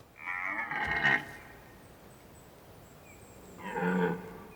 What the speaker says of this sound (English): The roaring stags can be heard for kilometers through the young forest.